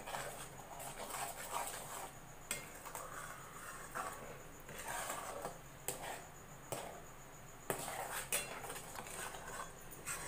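A spatula scrapes and clinks around a pan of coconut and sugar mixture being stirred continuously, with irregular metallic knocks and scraping strokes, moderately quiet.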